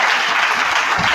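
Church congregation applauding to acclaim the Lord during a Sunday service, a short, dense burst of steady clapping filling the room.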